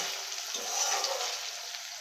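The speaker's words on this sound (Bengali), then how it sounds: "তো আমি এইভাবে ভেজে নিলাম" Chili chicken with capsicum frying in oil in a pan, a steady close hiss of sizzling with faint stirring scrapes, continuous and alone with no talk.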